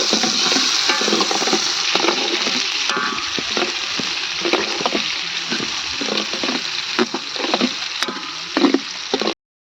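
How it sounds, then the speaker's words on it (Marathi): Onions frying in oil for a rustic mutton curry, a steady loud crackling sizzle filling the whole stretch with occasional stirring scrapes and pops, close up and without talk. "आता त्यात तेल टाकून घेते तळायला आता कांदा तळून घ्यायचा"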